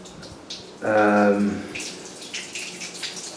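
Water leaks gush into a pipe in an underground bunker dug through hard clay: a sudden loud gurgling surge with a tonal, hollow quality, then fading to quieter trickling and splashes.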